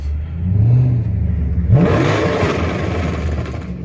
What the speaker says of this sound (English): I have it in park though and rev the engine, but the car is super loud